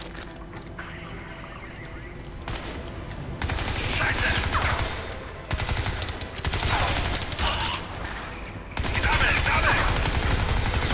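Sustained bursts of gun turret fire in Crysis 3, dense loud rattling volleys broken by brief pauses, heard close amid other game noise.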